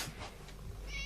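A single short cat meow sounds close and clear in a quiet indoor room.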